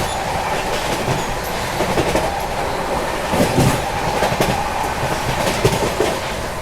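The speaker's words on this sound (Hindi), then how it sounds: "पहले सियालदह राजधानी, डिब्रूगढ़ राजधानी, उनकी क्रॉसिंग मैं आपको दिखाता हूँ।" Sialdah and Dibrugarh Rajdhani Express trains passing on the adjacent crossing track, a loud continuous rumble with steady clickety-clack of wheels over rail joints, heard close and alone.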